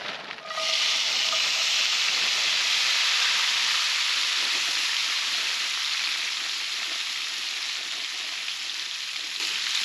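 Bacon sizzles in a pan at a solo dispersed campsite near Zion National Park, a loud continuous close frying hiss that starts abruptly and holds steady for about ten seconds.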